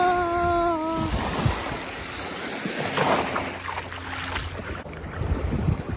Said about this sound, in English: We're in the ocean, bud.